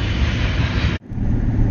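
A train passing through Marshfield makes a loud, steady broadband rumble and roar close by that cuts off abruptly for a moment, then resumes, with no talk.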